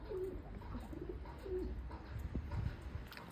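Pigeons coo repeatedly in a breeding loft for fancy pigeons, soft mid-range calls recurring every second or so over a steady low background rumble, with a few faint thumps and rustles.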